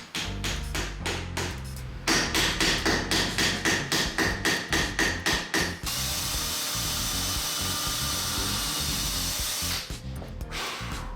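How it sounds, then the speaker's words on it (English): A piece of wood is hammered into the end of a tube while building a concrete fingerboard park, with a quick run of sharp, evenly spaced blows up close, then a steady rasping noise before a brief few more knocks. "To have some meat to screw into, I hammered in a piece of wood in the end of the tube."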